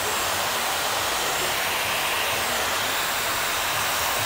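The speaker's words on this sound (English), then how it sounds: "put the diffuser sort of underneath it. Okay. So I want to dry the root to the mid shaft." A hair dryer fitted with a diffuser, used to dry a man's medium-length hair, blows with a steady, loud, close whooshing roar that holds unchanged for the whole stretch.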